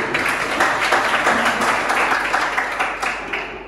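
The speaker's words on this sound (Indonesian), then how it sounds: "Tepuk tangan untuk kita semua" An audience at an Indonesian school gathering applauds in a dense, continuous burst of many hands clapping close by, steady for the whole few seconds.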